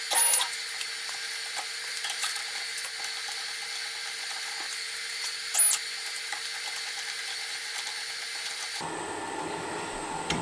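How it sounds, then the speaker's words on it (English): CNC machine tapping threaded holes in parts for a Stuart Turner No. 8 mill engine model, a steady mechanical whir with faint ticking and two brief louder clicks, then a change in tone near the end. "that's got my threaded holes started now"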